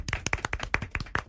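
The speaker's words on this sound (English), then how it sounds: "Can we give Keoni a little round of applause" A small group gives a brief, light round of applause for a participant named Keoni: a handful of sharp, separate hand claps close by, sparse and uneven rather than a full ovation.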